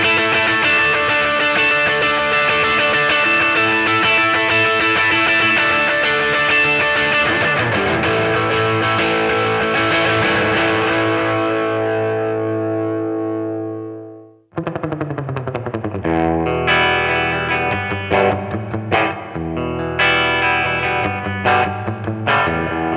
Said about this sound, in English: you can create huge sounding riffs using rhythmic strumming patterns that are offset against the delay repeats